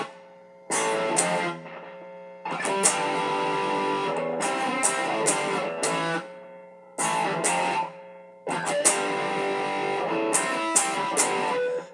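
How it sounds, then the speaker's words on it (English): Distorted electric guitar plays power chords, ringing out in sustained, chugging phrases with brief silent pauses between passages. "for that part, it's just power chords."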